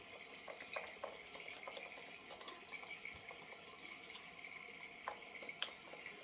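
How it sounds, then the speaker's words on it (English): Cold tap water splashes onto a face during a shave with a vintage Schick safety razor, with faint running water, scattered drips and soft splashes, quiet and close, no talk. "Now let me splash on some cold water"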